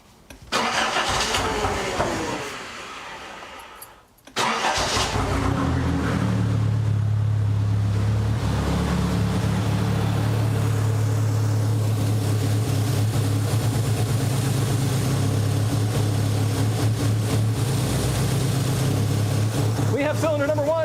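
A Nissan 200SX four-cylinder engine with its MAF sensor disconnected cranks for a few seconds, then catches and settles into a loud, steady idle close by, with voices talking in a garage.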